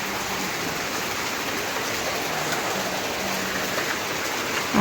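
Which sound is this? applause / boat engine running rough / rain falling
rain falling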